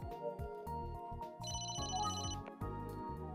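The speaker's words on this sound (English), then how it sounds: "Oh, am I getting a phone call?" A phone ringtone sounds in Emio: The Smiling Man, a detective video game, as a short, bright electronic melody of quick, stepped notes.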